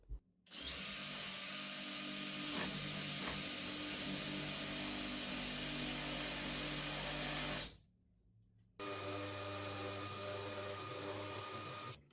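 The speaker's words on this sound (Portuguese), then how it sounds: "para eu poder fazer esse furo aqui e tentar fazer o mais baixo possível" A power drill bores a guide hole low in a wall for an invisible sword-type shelf bracket: a steady loud high whine for about seven seconds, a brief stop, then a second sustained burst.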